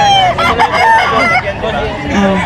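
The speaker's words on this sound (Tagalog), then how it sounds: "Pakita natin yung mga manok ni Bossing." Fighting cocks crow at the Bocaue market, several overlapping calls rising over a steady hubbub of crowd noise and nearby voices.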